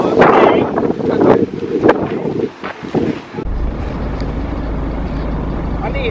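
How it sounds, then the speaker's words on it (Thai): Strong wind buffets a boat heading out on a fishing trip, a loud, steady roar rumbling across the microphone with a voice briefly over it early on. "ลมแรงมากตอนนี้นะคะ"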